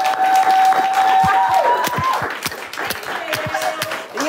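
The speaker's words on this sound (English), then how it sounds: "So my studio audience have to welcome the Militant Academy with a huge round of applause." A television studio audience claps to welcome the Militant Academy, loud and close, a dense run of hand claps that thins toward the end.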